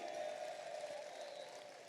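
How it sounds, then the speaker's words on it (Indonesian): Audience applause at a public talk, a steady dense wash of clapping heard at moderate distance without a break. "Berdiri Kodari, tepuk tangan nih, begitu."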